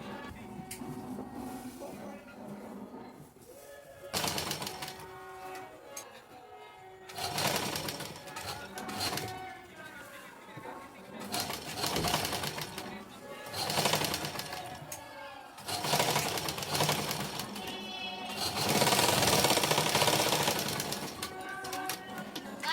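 A sewing machine stitches the neckline of a top in several bursts of rapid whirring and clattering, running in stretches of a few seconds with short pauses between them, close and fairly loud.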